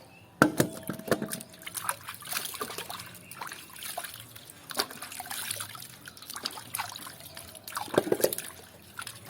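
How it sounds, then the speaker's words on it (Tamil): Cassava roots are washed by hand in water several times to get the mud off, with splashing, trickling and dripping that come in irregular bursts close by, along with clunks from the container. "ஒரு 3-4 தண்ணியில் கழுவோணும்"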